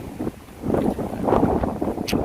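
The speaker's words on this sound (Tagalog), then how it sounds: "Lakas na hangin eh." Steady, strong wind roars and buffets the microphone throughout, with low rumbling gusts and no voices.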